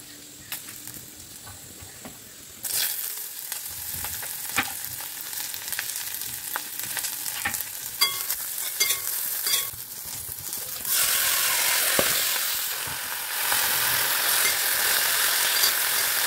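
Food frying in a covered pan gives off a hissing sizzle that starts soft, swells suddenly, then grows louder again later, steady and close with no talking.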